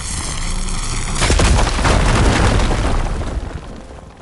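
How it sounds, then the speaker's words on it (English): A fire gleam blown up in a video game, giving one big close explosion that swells into a long rumbling roar and slowly fades. "Should be able to blow up that fire gleam."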